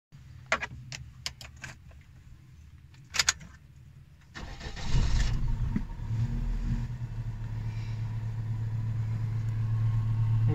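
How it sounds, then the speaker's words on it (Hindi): A car is started from inside the vehicle: keys jangle and click first, then the starter cranks and the engine catches, settling into a steady, rising idle hum that continues to the end. "जब तक गाड़ी को स्टार्ट कर लूँ।"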